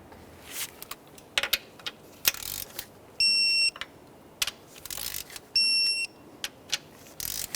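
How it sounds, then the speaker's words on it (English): A click-type torque wrench tightens the camshaft position sensor bolts on a 2012-2018 Nissan Maxima 3.5L V6. Sharp scattered clicks and ratcheting are interrupted by two short high-pitched electronic beeps from the wrench reaching torque. "Now we'll torque them in that same sequence."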